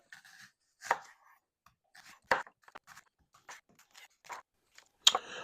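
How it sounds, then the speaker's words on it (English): A knife chops onions and peppers on a board in irregular, fairly quiet strokes, a few sharper chops standing out, heard alone without talk. "This is just me chopping up the onions and peppers."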